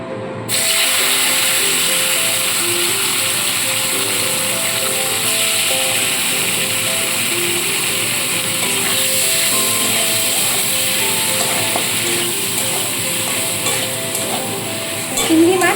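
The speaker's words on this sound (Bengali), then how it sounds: "এবার ওই তেলের মধ্যে আমি মাছগুলোকে ভেজে নেবো" Shrimp fry in hot oil in a pan, a loud, continuous hissing sizzle that starts abruptly and holds steady throughout, with faint background music underneath.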